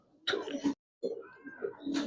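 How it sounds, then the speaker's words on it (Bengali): Pigeons of the Giribaz, Kaldom, Mushaldom and Silver Gorra breeds coo in soft, low, rounded bursts, two short close phrases separated by a brief gap, with faint bird chatter in between. "খুব সুন্দর কবুতর"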